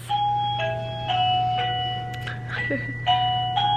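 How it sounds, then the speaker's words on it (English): An electronic doorbell chimes a repeating melodic ding-dong pattern several times over a steady low hum, close and clear. "when I hit my doorbell, because this is like my cleanup sound"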